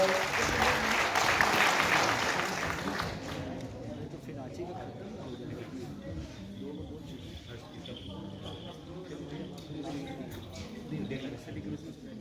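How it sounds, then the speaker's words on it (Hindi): Applause from an audience at a state-level youth festival in Ranchi, loudest in the first three seconds and then settling into a softer, steady patter of clapping mixed with crowd murmur. "तालियों में कमी नहीं होनी चाहिए"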